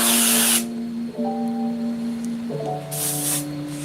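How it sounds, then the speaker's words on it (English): An airbrush with a partial clog hisses in short bursts of paint spray, loud and close, with quieter gaps between bursts and a steady background tone. "There's still a big clog in this airbrush I haven't fixed yet."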